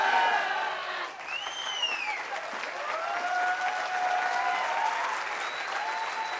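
A crowd applauds loudly and continuously, a dense wash of clapping that fills the whole stretch, with a few whistles and raised voices rising above it.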